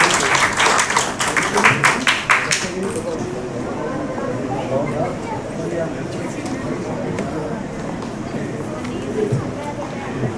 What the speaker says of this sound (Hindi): बहुत जोरदार तालियां बजनी चाहिए।